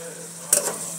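Bihon rice noodles with minced black pepper stirred in a hot pan, a steady close sizzle broken by one quick scraping stir near the middle.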